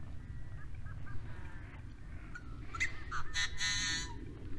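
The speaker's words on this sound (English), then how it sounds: "There's so many birds." Many birds call at a hot spring in Nevada, a dense wash of chirps and squawks above steady low outdoor rumble, with brighter, louder calls clustering near the end.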